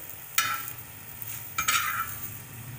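Methi debra, a fenugreek flatbread, fries in a pan while a spatula presses it down, giving two sharp hissing sizzle bursts over a low steady frying crackle, close and without talk.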